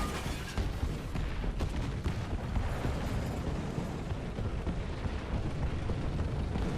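Artillery strikes explode in War Thunder during a French tank battle, a dense, continuous rumble of blasts and booms that stays loud and steady throughout with no talking.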